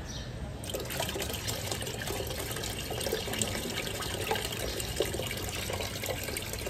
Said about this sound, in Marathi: आणि आता आपल्याला परत ह्याच्यामध्ये पाणी टाकायचं.